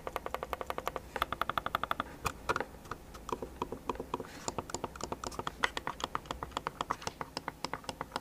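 Rapid, soft clicking from a Logitech MX Anywhere 3S mouse repeats steadily with no pauses, muted taps close to the listener and nothing else in the background.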